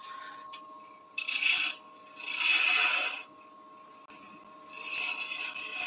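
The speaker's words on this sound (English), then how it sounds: "Nice and gently with the tip of the gouge." A wood gouge cuts a turned wooden bunny spinning on a lathe, heard as several separate raspy scraping passes of a second or so each, with quiet pauses and a steady motor hum beneath.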